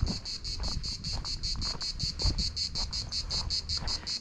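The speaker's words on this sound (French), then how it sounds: "Et il y a les cigales." Cicadas in the Sainte-Baume massif in Provence buzz in a loud, dense, pulsing chorus, an even rapid rhythm over low rustling wind noise.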